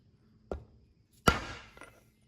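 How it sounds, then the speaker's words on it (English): Hammer blows on a metal seal on a Procharger F3 supercharger gearbox mounted on a big block Chevy, with two sharp, close metallic strikes about a second apart and a faint third tap, with no one talking. "With just a few more strikes of the hammer, Procharger could have done that right."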